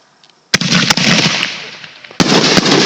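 Cheap consumer fireworks on the July 3 holiday, two sharp loud bangs about two seconds apart, each followed by a dense crackling hiss, recorded close by.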